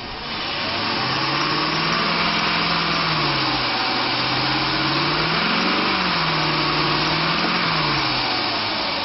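The 4.7-liter engine of a 2004 Dodge Ram 1500 pickup with an automatic transmission runs steadily and close by, its hum rising and falling slightly throughout.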